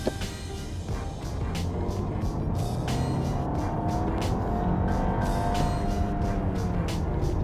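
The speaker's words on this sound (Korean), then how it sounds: "네, 가속 페달을 끝까지 밟았는데" An eighth-generation Audi A6 accelerating hard uphill with the pedal floored in automatic drive mode, a steady loud engine and road roar from inside the cabin that holds level throughout, with faint ticks and rattles on top.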